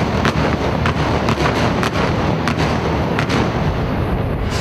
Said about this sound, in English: at least 20 thunderous explosions.